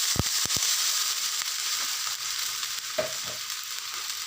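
Vegetables for potato curry fry in a pan alongside rotis, a steady close sizzle with a few sharp stirring knocks near the start and midway.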